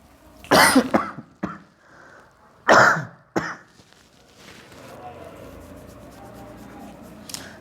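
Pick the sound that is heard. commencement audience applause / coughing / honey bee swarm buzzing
coughing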